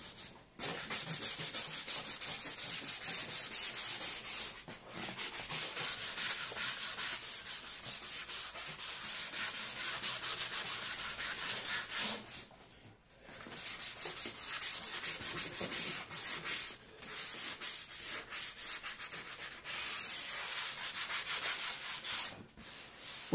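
Hand sanding on a repaired car leather seat after filler has been applied, a loud continuous rough scrubbing in long strokes with brief pauses between passes, no voices.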